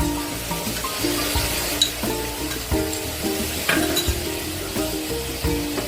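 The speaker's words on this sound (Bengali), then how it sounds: "দিয়ে এটাকে ভালো করে কষে নেব" Onion paste and tomato paste sizzle steadily in a pan, a continuous close frying hiss broken by occasional stirring scrapes.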